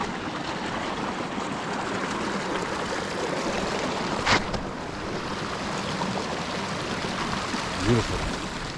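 A small stream flows beside a mountain trail on Mt San Jacinto, making a continuous rushing, gurgling wash mixed with wind buffeting the microphone.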